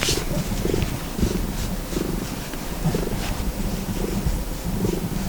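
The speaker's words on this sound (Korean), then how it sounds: "골골송은 고양이가 긴장이 풀리고 완전히 편안할 때 자주 들을 수 있는 소리인데요" Steady close-up purring with a soft rhythmic pulse, continuous and low, over a faint breathy background.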